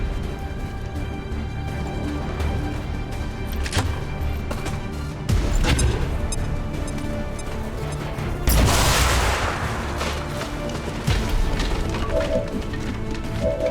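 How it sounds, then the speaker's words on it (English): A grenade goes off on two enemy troopers in XCOM 2 amid a steady game soundscape, with one loud, broad explosive burst partway through plus a few sharp thuds and scattered impacts. "Before we do that, we'll grenade the 2 troopers."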